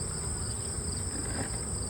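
A dense, steady insect hum from honey bees clustered on the comb of an opened hive, continuous and fairly soft with no talk over it.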